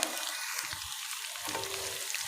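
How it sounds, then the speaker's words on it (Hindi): Garlic ginger paste fries in a pan with a quiet, continuous crackling sizzle and a few soft stirring sounds, fairly faint and close, with no speech. "लहसुन अदरक का पेस्ट हमारा फ्राई हो रहा है।"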